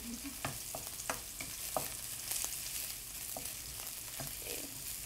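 Garlic and ginger fry in a pan, a steady close sizzle punctuated by quick scraping stir strokes at irregular intervals.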